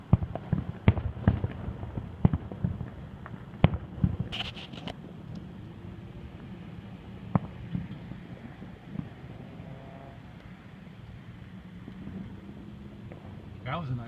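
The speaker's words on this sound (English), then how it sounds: "Aren't the fireworks beautiful?" Fourth of July fireworks go off as a few sharp, distant bangs and crackles early on, then fade to a low rumble of background noise while people talk nearby.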